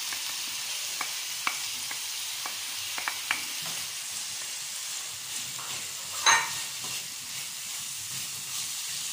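Onion, peppers and chicken sizzle in a hot pan, a steady bright hiss close by, broken by a few soft clicks of stirring and one sharper burst of frying partway through.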